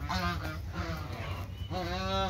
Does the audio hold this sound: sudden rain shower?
no